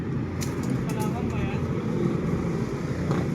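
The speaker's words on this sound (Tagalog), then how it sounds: "Buti natakbo pa yung motor mo." A Kawasaki NS160 fuel-injected motorcycle with a low-power engine fault runs at a steady idle, its continuous low rumble sitting close beneath people talking.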